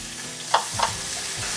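Collard greens and tomatoes sautéing in a pan give a hissing sizzle with two quick stirring scrapes close by. No speech is heard in this brief moment.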